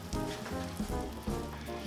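Butter sizzles with olive oil in a hot pan, a moderate close crackle with a few brief louder spurts, no talk over it.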